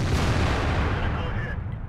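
A tank's main gun fires a shell in World of Tanks, a loud booming blast with dense low-end rumble that carries across the whole two seconds before tailing off.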